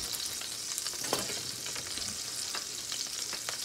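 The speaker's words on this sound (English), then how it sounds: "I'm gonna use the same oil as I have in here, and I'm gonna add my onions and garlic." Onions and garlic fry in oil with a steady, dense sizzle that holds at an even level throughout, broken by a few faint clicks of a utensil in the pan.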